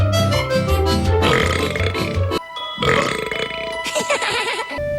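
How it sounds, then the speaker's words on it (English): A cartoon troll character lets out a loud, drawn-out belch over a busy animated soundtrack with music, then a short pause and more layered cartoon sound. "Troll belches."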